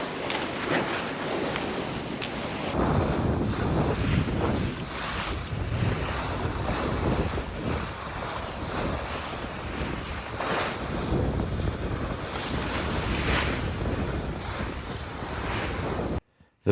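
A JPK 39FC sailboat hull pounds through waves at about 8 knots, with rushing water, surf and strong wind buffeting the microphone throughout.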